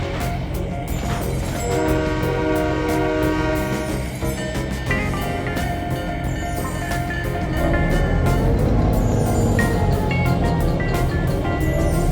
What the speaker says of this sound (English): instead of Santa Fe SW1500s, we are greeted by Conrail SW7s